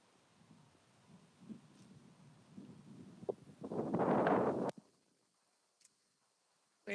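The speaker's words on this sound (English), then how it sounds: "Oh, it's windy." Wind gusting over a microphone outdoors on a walk past palm trees at an LA museum, low rumbling buffets building to a loud burst before cutting to near silence.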